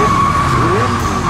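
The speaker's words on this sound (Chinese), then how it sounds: "刹车！" A car brakes hard during a chase scene, its tires skidding with a loud, sustained squeal over a rough, steady roar, with no voices.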